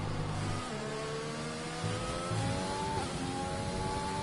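Formula-style race car engine in a racing video game during a flying qualifying lap at Japan, a steady high revving drone with rising pitch sweeps and quick gear-change dips, continuous and fairly close.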